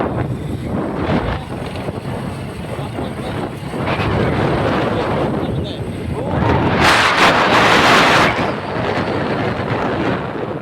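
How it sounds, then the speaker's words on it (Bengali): A motorcycle engine drones loudly as it rides through a jungle, with heavy wind buffeting that swells to a louder gust near the end. Someone talks intermittently over the noise. "পুরা মোটরসাইকেল চলছে জঙ্গলের মধ্যে"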